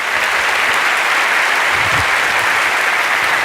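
Steady, loud audience applause fills a large venue for the British Sign Language interpreters, a dense continuous wash of many hands clapping with no voices standing out.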